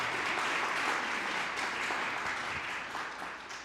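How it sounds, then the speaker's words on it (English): An audience at a community grant press conference applauds in a steady, dense wash of clapping that runs the full length and fades slightly near the end. "So if I could have a round of applause for her."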